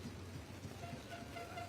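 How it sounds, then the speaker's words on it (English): Heavy rain pours steadily on an outdoor football match at Belmopan in a Concacaf Central American Cup game between Verdes and Motagua, a dense continuous hiss with low rumble and no clear voices. "Continues to rain here rather heavily in Belmopan."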